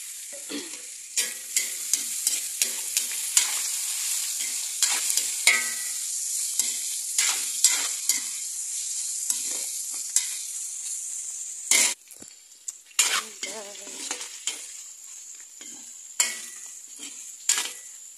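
Ingredients for pancit are stir-fried in a hot pan, with a steady sizzle running throughout and repeated scraping and clinking strokes of the utensil on top.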